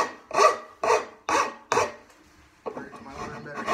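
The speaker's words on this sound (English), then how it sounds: "I'll go ahead and chamfer those." A hand tool rasps along the edges of a wooden apron tenon, chamfering them in four firm, evenly spaced strokes close by, then a rougher, continuous rubbing.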